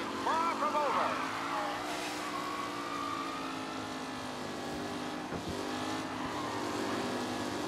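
Race cars speeding in the Mafia video game, their engines droning and whining steadily at high revs, with pitch sweeping as the pack roars close by and a voice talking over the noise.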